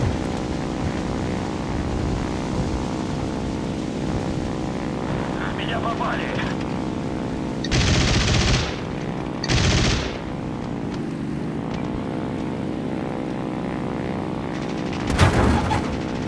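Propeller aircraft in the War Thunder video game drones steadily up close, with brief bursts of gunfire around the middle and near the end while someone talks over it.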